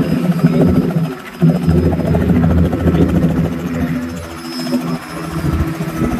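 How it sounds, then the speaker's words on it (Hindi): A helicopter sets down on a village helipad, its engine and rotors a loud, close, continuous thrum that dips slightly near the end. "इस वक्त हेलीकॉप्टर हेलीपैड पर उतर चुका है"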